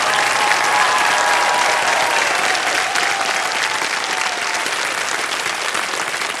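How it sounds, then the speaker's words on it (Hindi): Loud, sustained applause from a studio audience greeting the top two challengers on the quiz show Kaun Banega Crorepati, steady and dense throughout, with a host's voice faintly under the clapping. "जोरदार तालियां हमारे टॉप 2 चैलेंजर्स के लिए।"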